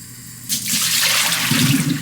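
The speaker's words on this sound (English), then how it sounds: "Alright, so the rice is washed." Rice being washed under a running cold-water tap while making chicken soup from scratch, a steady rushing pour that starts abruptly after a brief quiet moment and continues close and loud to the end, splashing heavier toward the finish.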